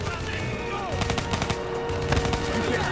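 Rapid automatic gunfire from the video game Call of Duty Black Ops 3, loud continuous bursts with sharp cracks, mixed with in-game voices and background battle noise.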